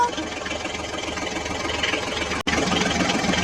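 Toy John Deere tractor driving along with a steady buzzing motor whir that runs nearly the whole time, with one brief cut near the end, and no voices.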